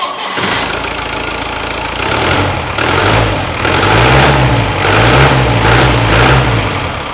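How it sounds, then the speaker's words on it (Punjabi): A jeep with a DI diesel engine starts and settles into a loud, close idle, its low throb pulsing steadily with slight rises in revs and no voices. "ਡੀਆਈ ਸਿੰਪਲ ਇੰਜਨ ਹੈ ਜੀ ਇਹਦੇ 'ਚ ਤਾਂ ਇਸ ਗੱਡੀ ਦੀ ਮੈਂ ਤੁਹਾਨੂੰ ਆਵਾਜ਼ ਚੈੱਕ ਕਰਾਉਂਗਾ"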